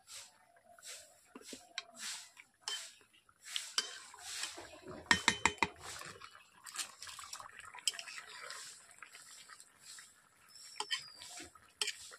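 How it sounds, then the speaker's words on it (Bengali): A spoon stirs cumin paste into a fish curry with drumstick pods, producing soft irregular scrapes and clinks against the pot, quiet and close with short gaps between strokes. "জিরে বাটা দেওয়ার পর এভাবে আমি নেড়ে নিয়েছি।"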